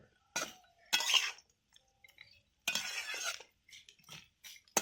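Light stirring of instant noodle tiffin in a pan at a home kitchen, with a few short bursts of scraping and metallic clinks separated by quiet gaps.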